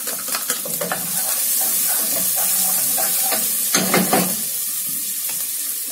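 Onion frying in a pan for Indian-style pasta, a close, continuous sizzling hiss with stirring scrapes and a few louder crackling bursts toward the end, no voices.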